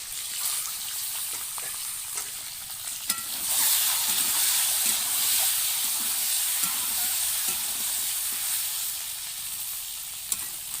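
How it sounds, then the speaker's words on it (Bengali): Large duck eggs frying in hot oil in a pan, a loud continuous hissing sizzle that swells midway, with a few faint clicks of a utensil and no voices. "এখন আমি ডিমগুলো ভাজা করব।"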